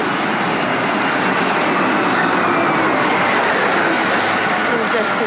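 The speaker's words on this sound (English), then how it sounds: "There's a cement truck that just went by." A loud cement truck passes on a city street outside a gallery, its broadband roar and rumble filling the whole stretch at close range, with no speech over it.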